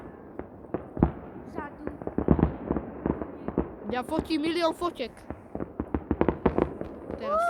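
Fireworks burst in irregular bangs and crackles at a large New Year's display, some sharp and close, heard beneath people chatting excitedly throughout.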